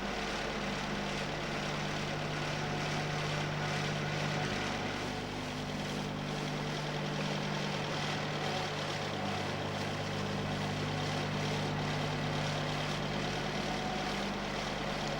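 Chrysler engine with Weber twin carburettors runs at a fast idle during mixture adjustment, a loud, steady, continuous drone with a slight shift in tone partway through and no talking.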